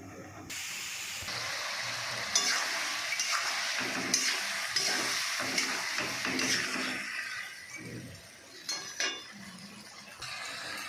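Fritters of soaked, ground red lentils fry in a pan of stem and taro curry, giving off a continuous sizzling hiss with occasional clinks of a utensil against the pot.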